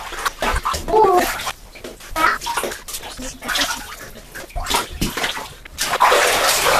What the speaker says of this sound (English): Here, let me lather up for this one.